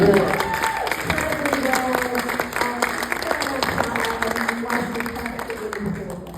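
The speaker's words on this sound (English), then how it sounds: "let's give Samara Weaving a massive round of applause." The audience at a film Q&A breaks into applause, a sustained wash of clapping with cheers, while someone keeps speaking over it.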